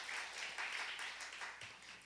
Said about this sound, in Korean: 우리 김혁환 형제님 위해서 박수 한번 쳐주세요